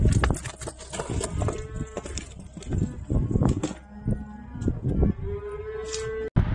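Cattle moo repeatedly during a cattle drive, some calls long and drawn out, amid shuffling hooves and general livestock commotion outdoors.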